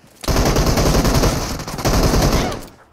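Automatic gunfire in the mobile battle royale game PUBG Mobile, a loud, close burst of rapid shots lasting about two seconds with a brief dip midway.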